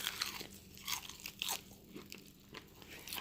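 Repeated crisp, crackly crunches sound up close as someone bites and chews an air-fried chicken wing, faint and irregular, with no talking.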